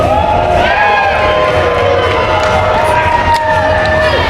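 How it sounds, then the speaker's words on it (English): A wrestling crowd cheers and roars as a tag team enters the ring at a UK Pitbulls match, a loud, steady wall of shouting with some higher voices standing out. "the UKP are winding up the crowd already, and here comes the Bulk"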